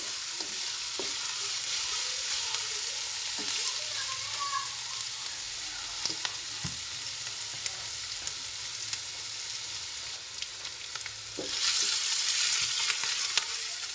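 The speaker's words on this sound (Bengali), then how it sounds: "পেঁয়াজ আর রসুন দেওয়ার পরে কিছুক্ষণ ভেজে নিয়ে লাল করে নিচ্ছি।" Onion and garlic frying in oil until browned, giving a steady, dense sizzle that runs throughout at close range, with occasional soft knocks of a stirring spoon and a brief swell of louder crackling near the end.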